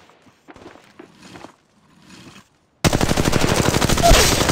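Rapid, loud automatic gunfire erupts partway through a firefight in the video game Apex Legends, following a stretch of quieter shuffling movement, then sustains as a dense continuous burst to the end.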